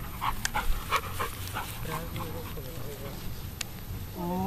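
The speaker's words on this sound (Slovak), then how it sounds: "Úžasný pes." A dog panting rapidly at a dog training session, with occasional soft whimpers and rising whines close by. Faint background noise and brief thumps accompany it.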